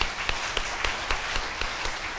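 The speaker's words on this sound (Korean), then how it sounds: "송광석 회장님께 감사의 의미를 담아 뜨거운 박수를 보내주시기 바랍니다" An audience at a Unification Church association president's inauguration ceremony applauds. Sharp, evenly spaced claps stand out in a regular rhythm over a continuous wash of crowd clapping, with no speech.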